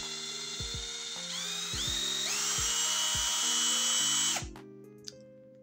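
A cordless rechargeable drill driver whines steadily and close up, its pitch stepping upward as the trigger is squeezed for more speed, then winding down and stopping, with no talking over it.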